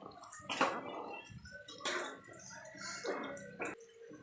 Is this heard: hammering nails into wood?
no